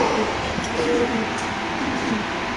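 Caged pigeons cooing at a pigeon market, with soft low coos under steady background noise and faint crowd chatter.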